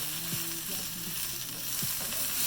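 Bacon frying in a pan at medium heat while being stirred, a steady soft sizzle with a few quiet scraping stir strokes, close and fairly faint, no talking.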